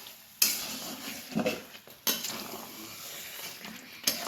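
Meat being mixed with spices in a cooking pot, a utensil scraping and stirring close up with a faint sizzle, marked by three sharp metallic clanks spaced about two seconds apart; no talking.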